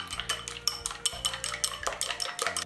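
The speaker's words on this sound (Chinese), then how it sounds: "用筷子充分的搅拌均匀" Chopsticks whisk two beaten eggs in a large bowl, making a fast, steady run of close, bright clicks against the bowl's side, with a low background hum.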